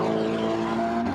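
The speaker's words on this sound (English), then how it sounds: "Don't the cars sound different at night?" Race cars running at night during the ADAC 24h Nürburgring qualifier race, a steady loud engine drone with layered motor tones and no break, like several cars passing close by on the circuit.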